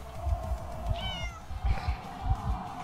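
Cats meowing in the video game Identity V, several short mews repeating close by over a low, rumbling game background.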